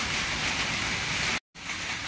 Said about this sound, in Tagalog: malakas na naman yung ulan talaga naman